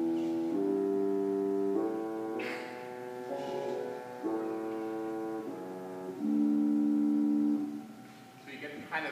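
The English horn stop of the pipe organ at the Village Chapel in Pinehurst, North Carolina plays a slow sequence of held, reedy notes that step up and down in pitch, sounding full and close.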